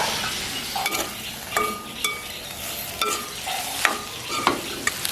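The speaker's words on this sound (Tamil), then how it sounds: "இது நாங்கள் இப்போ வெந்தய நெருப்பில் வதக்கி கொண்டிருக்கிறோம்" Onions sauté in a pan for Jaffna-style spicy crab curry, a continuous sizzling hiss with a steady run of clattering stirs and scrapes, close up and free of speech.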